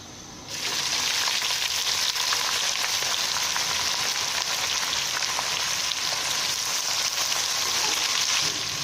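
Onions frying in a pan for chicken biryani, with a loud, continuous close sizzle that starts abruptly and holds steady, and no talking.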